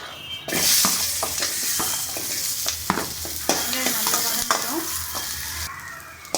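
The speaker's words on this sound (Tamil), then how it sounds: "வெங்காயத்தையும் நல்லா கோல்டன் ப்ரௌன் கலரில் வறுத்துக்கோங்க." Onions frying in a pan for mint chutney, a steady sizzle with scraping stirs and utensil clinks against the pan, close and continuous, no talk.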